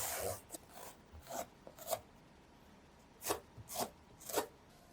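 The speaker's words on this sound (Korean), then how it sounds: "가지 껍질에 칼자국을 내줄게요." A knife scores the skin of an eggplant, giving a series of short, dry rasping strokes with brief pauses between them, close and fairly quiet with no talking.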